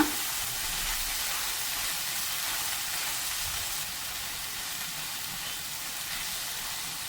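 Okra stir fry being mixed in a pan on the stove, a constant loud sizzle and hiss of frying vegetables heard close up for several seconds, with faint stirring scrapes and no talking.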